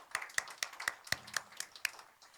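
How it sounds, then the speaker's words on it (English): An audience applauds after a steel orchestra concert, though here only a few sharp hand claps are heard in a steady rhythm, close and distinct, with no talk over them. "Can we give them a warm round of applause?"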